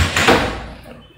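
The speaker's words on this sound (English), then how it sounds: "I'll close my door." A door is shut with one fairly loud, close thud that quickly dies away, heard alone without talk.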